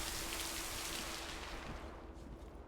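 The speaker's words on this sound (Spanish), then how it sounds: "se puso horrible la lluvia acá" Heavy rain in the game Lake, a steady wash of downpour with a low rumble beneath and a faint sustained tone, gradually thinning toward the end, with no one speaking.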